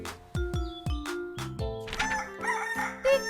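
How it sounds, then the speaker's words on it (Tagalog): A rooster crows and clucks inside a garage as a sound effect in a children's story, a series of sharp loud calls followed by a rising, warbling crow, heard alone with no talking. "Tiktilaok! Kay aga manggising ng tandang sa garahe ni Mang Oman."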